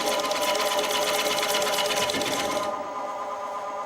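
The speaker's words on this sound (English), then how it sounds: "You hear the difference in cutting, and you can see the difference in the chips" Chisel or carving tool cutting into a wooden stave, steady dense rasping scrape with chips coming off, close and continuous for most of the moment before easing off near the end.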